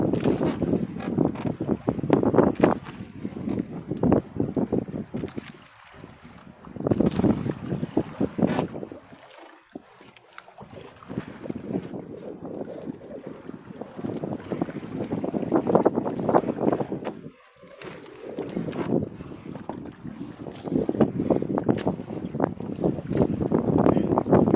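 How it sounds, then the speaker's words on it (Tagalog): Gusty north wind at sea roars across the microphone during fishing from a boat, surging loud and dropping to brief lulls over a long stretch, with no talking. "Diyan na yung hangin, mga norte."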